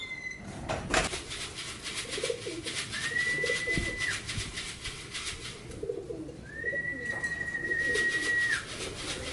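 Pigeons gather to be fed and coo nearby, giving soft, low throaty calls that come and go, joined by a couple of sustained whistling tones over faint outdoor background.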